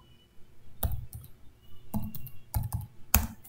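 Several sharp clicks tap out a command on a computer keyboard on a Linux machine, coming in short irregular bursts with brief pauses between keystrokes, close and clear with no talk.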